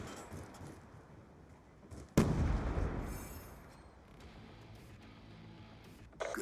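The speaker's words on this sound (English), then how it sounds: "Throwing grenade!" A grenade blows up in a video game with a sudden loud blast, followed by a long rumbling decay that fades into ambient game noise, and a second sharp hit at the very end.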